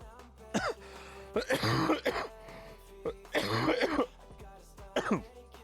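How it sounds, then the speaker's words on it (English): Several harsh coughs in separate bursts, close to the microphone, with quiet pauses between them. "This cough has been really bad tonight."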